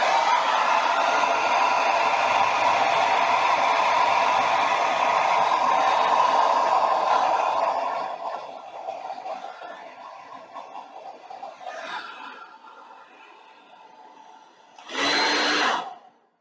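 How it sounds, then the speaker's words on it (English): A hair dryer blowing paint across a surface, starting on low, a steady loud whooshing roar for about eight seconds that cuts off and fades, then quiet with a brief louder burst of air near the end. "So I'm gonna turn on my hair dryer and I'm gonna blow the paint over and then back that way."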